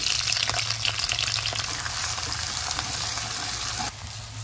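Onion frying in hot mustard oil with a bay leaf crackles and sizzles steadily, close and fairly loud, then drops in level near the end, with no talk.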